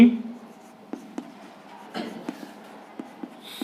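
Writing on a board during a chemistry class makes a series of sharp, separate taps and strokes at an irregular pace, with a faint voice at the start.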